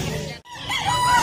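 A rooster crows close by at a chicken market in Bulacan, a loud drawn-out call broken by a brief gap.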